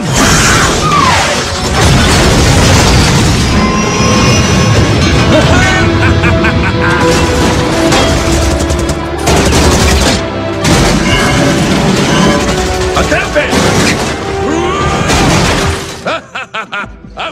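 Rockets fire and explode in Overwatch: loud booms and crashing blasts follow one another in quick succession, with whooshes and shattering debris, and voices shouting beneath the chaos.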